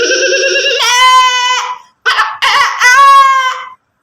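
A person's voice imitates a goat, giving a loud, close, quavering bleat followed by two shorter bleats and a final drawn-out one, with no other sound.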